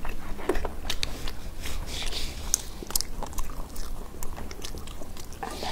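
Close, busy mukbang chewing and biting of chicken wings, with wet crunches and smacks running steadily throughout and no talk.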